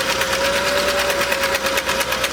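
A Singer sewing machine fitted with a top hat cam runs steadily through a stitch, giving a close, loud, even mechanical whir with a fast rhythmic pulse throughout.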